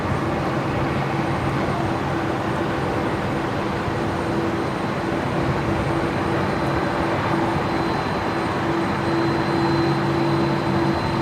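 A Qantas Boeing 737 airliner at Brisbane Airport gives off a steady engine rumble with a faint whining hum. The sound holds evenly at moderate loudness throughout and comes with no talk.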